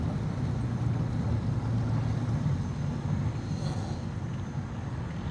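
P-80 chase planes being readied for flight give off a steady, dense low rumble of engine noise that holds at an even level throughout, with no voices.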